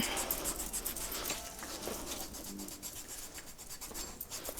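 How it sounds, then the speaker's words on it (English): Coarse side of a foot file rasping across the skin of feet during a home pedicure, a soft continuous scraping and rubbing that is close and quiet, with no talking. "So you always want to use the coarse side of the foot file first"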